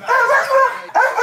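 A dog barks in a short run of loud, close yelps and barks on a sports prank show, with a brief pause before one last bark.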